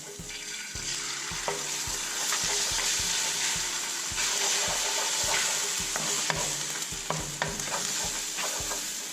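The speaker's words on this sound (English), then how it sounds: "I'm going to cook the egg on this side" An egg frying in a pan for kimchi fried rice, a steady sizzle with rapid rhythmic stirring and scraping throughout, and no talking.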